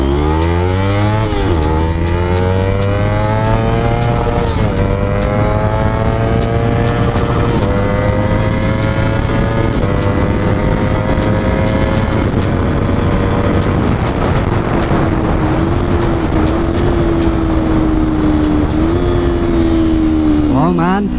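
A Kawasaki Ninja motorcycle engine revs loud and close on a high-speed run, its pitch climbing through several gear changes with brief dips between, under steady heavy wind roar.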